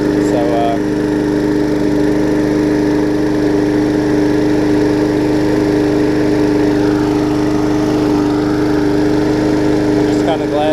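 Small engine on a rally lawn mower built with a swapped engine, running steadily at an even idle-like drone with a strong tonal hum, loud and close the whole time.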